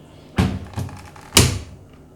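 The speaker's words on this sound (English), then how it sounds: "Now just close the door." The door of a Haier 10.5 kg front-load washing machine closing, three dull thumps spaced about a second apart, close and alone with no talking.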